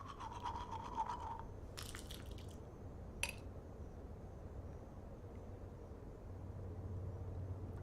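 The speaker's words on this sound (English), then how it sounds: "tooth has been brushed." Teeth being brushed in the video game Life Is Strange: a short burst of brisk bristle scrubbing at the start, then a click and quiet background hum for the remainder.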